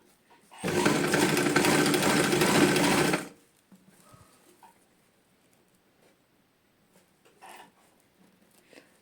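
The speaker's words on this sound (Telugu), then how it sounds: "సో అలా నేను మిడిల్లో పెట్టుకొని లేస్ని అనేది స్టిచ్ చేసుకుంటున్నాను." A sewing machine stitches lace onto a saree in one loud, fast whirring burst lasting about three seconds, then falls quiet apart from faint handling noises.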